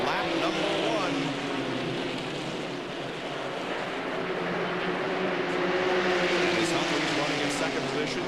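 Stock cars of the 2000 NASCAR Goody's Dash Series roar around the Daytona Speedway banking in a steady, dense rumble with a slight rise and fall as the pack passes, while an announcer talks over it.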